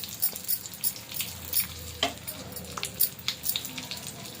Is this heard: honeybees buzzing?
no